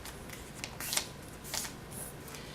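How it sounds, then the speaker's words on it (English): Paper being folded, pressed flat and torn, heard as a few brief crisp rustles and rips spaced apart against a quiet room. "And so press that really well and tear that down."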